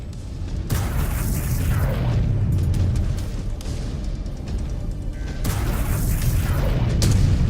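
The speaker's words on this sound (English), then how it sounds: "That reactor's gonna blow." A mech's reactor explodes in the MechWarrior 5: Clans video game, with loud, sustained rumbling booms and a sharp burst near the start and another near the end, in thick low-end noise with no talk.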